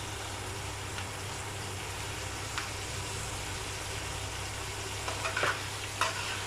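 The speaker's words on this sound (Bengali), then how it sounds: "কালো জিরাটা ভাজা হয়ে আসবে" Black cumin and green chillies fry in mustard oil in a pan, giving a faint continuous sizzle over a low background hum, with a few light taps and scrapes toward the end.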